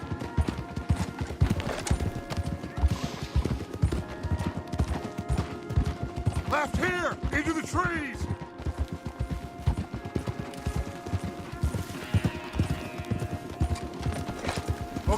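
Horses gallop hard in Red Dead Redemption 2, a rapid, continuous drumming of hooves close by, with a horse whinnying midway and a voice calling out briefly.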